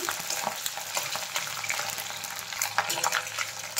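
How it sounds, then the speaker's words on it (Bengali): Chopped onion, whole garlic cloves and whole cumin seeds frying in hot oil as a spice tempering for a country chicken curry, giving a steady close sizzle with stirring scrapes throughout, no talking. "ফোড়নটা একটু ভালো করে ভেজে নেব।"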